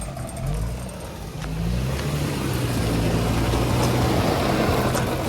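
Drift car engine revving at high RPM after a stall, a loud steady droning engine note with tonal harmonics that rises slightly and holds, outdoors with no talk.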